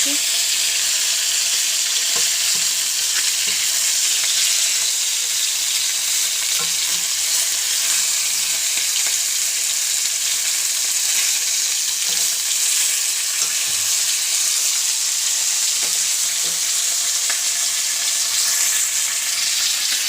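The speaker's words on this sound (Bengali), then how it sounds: "এখানে মাছগুলো ভেজে নিচ্ছি" Fish fries in a pan with a loud, continuous sizzle and hiss, dense and even throughout, with only faint occasional clinks underneath and no speech.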